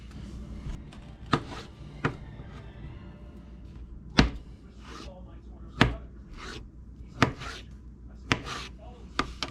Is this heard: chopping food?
yes